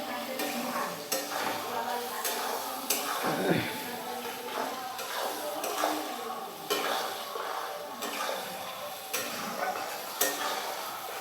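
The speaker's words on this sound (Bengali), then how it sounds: "এখানে আমি দিয়ে দেবো কেটে রাখা লেবু। লেবুগুলো দিয়ে কিছু সময় নাড়াচাড়া করব।" Cut lemon pieces for a sweet-sour chilli-lemon pickle are stirred in oil in a pan, giving a steady sizzle with repeated scraping and clinking strokes of the spoon against the pot, close and moderately loud.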